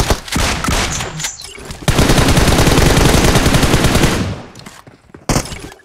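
Gunfire from BGMI, the battle royale mobile game: sharp close shots open the clip, then a sustained loud automatic burst of rapid fire for a couple of seconds, followed by scattered single shots.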